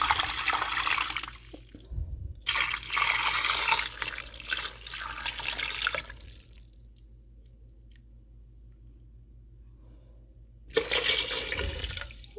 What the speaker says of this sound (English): I'm going to also add some water.